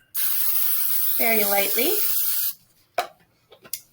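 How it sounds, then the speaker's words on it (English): Cooking spray hisses onto a baking sheet in a steady two-second burst, followed by a few light clicks and taps, with a voice speaking briefly over the spray. "I'm going to take my cooking spray, and I'm going to spray the pan"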